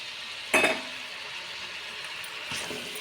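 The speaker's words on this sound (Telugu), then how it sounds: "ఇప్పుడు కట్ చేసుకున్న ఆనంకాయ ముక్కలు వేసేస్తున్నాం" Cut ash gourd pieces dropped into a hot pan of spiced chicken curry base, giving a sharp burst of sizzle that fades, then a second softer sizzle moments later.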